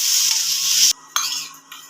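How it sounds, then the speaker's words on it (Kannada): Green chillies fry in a pan with salt. A loud, dense sizzle cuts off abruptly, then returns in a couple of shorter sizzling bursts. "ಹಸಿಮೆಣಸಿನಕಾಯಿ ಫ್ರೈ ಮಾಡ್ಕೋಬೇಕು"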